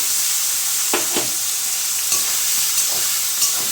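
Spice paste frying with capsicum in a pan makes a loud, even sizzle, broken by several scraping stirs of a spatula, and nobody speaks.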